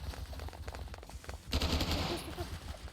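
Rapid automatic gunfire in the Roblox shooter Hypershot, a dense continuous burst that swells louder halfway through and blends with game noise.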